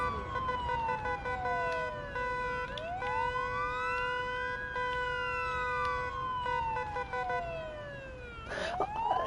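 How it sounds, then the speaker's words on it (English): A wailing ambulance siren in Ambulance Simulator sweeps up and down in long cycles, loud and continuous, with a second siren tone layered over it and a brief burst near the end. "I am pressing siren"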